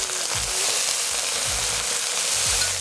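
Rice wine hits a hot wok holding sizzling green onion, raising a loud, steady frying hiss with a few soft stirring scrapes and no talking.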